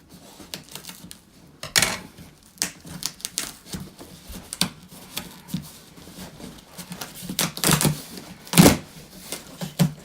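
Sharp scraping and snapping of cardboard and tape as a mystery box of Pop vinyl figures is cut open, irregular bursts with clicks and rustles, close by and without speech.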